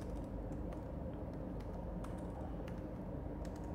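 Faint, irregular keystrokes on a computer keyboard tap out across a few seconds, soft clicks scattered over a low steady room hum with no talking.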